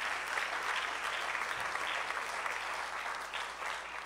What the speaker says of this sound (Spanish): Denle un fuerte aplauso a mi Señor por eso,